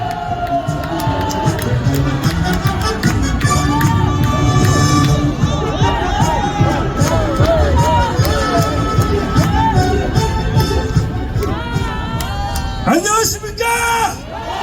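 Large crowd at an outdoor rally opposing impeachment in Daegu claps and cheers loudly and steadily, with shouts and whoops mixed in, before the noise breaks off near the end.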